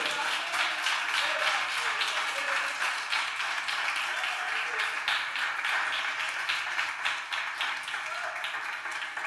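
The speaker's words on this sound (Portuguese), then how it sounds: "Você pode aplaudir Jesus por isso?" A church congregation applauds during a sermon, with sustained dense clapping throughout and voices mixed in underneath.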